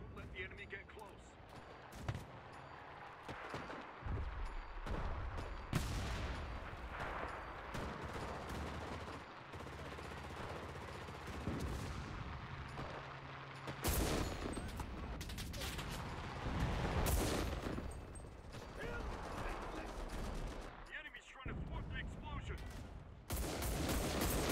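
Battle sounds from the shooter game Enlisted: dense, nearly unbroken bursts of gunfire, machine-gun fire and booming artillery explosions run loud for the whole stretch, with voices heard among the combat noise.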